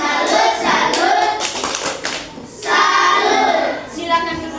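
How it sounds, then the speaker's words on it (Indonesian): A fifth-grade class gives a rhythmic salute clap for a classmate, with bursts of hand claps in short patterned sets mixed with children's chanting voices, close and lively. "Tepuk salut dulu untuk Samuel"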